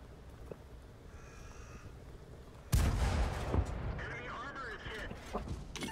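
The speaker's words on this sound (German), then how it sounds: "Na, jetzt schießt die Grille zurück," Grille self-propelled artillery tank firing in World of Tanks, a single loud booming blast that breaks out of quiet background noise and then rolls away into a long rumbling tail with faint game sounds.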